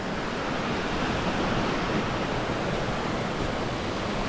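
A big waterfall and rushing river water make a loud, steady, broadband roar heard close up and continuous throughout, with no talk.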